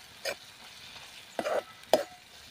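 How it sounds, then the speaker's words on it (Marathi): Masala with a little turmeric being sautéed and stirred in a pan for a vada bhaji curry, heard as three short bursts of stirring and sizzling, close by, with quiet gaps between them and no talking. "बघू शकता मस्तपैकी आपला मसाला हा परतला गेला आहे."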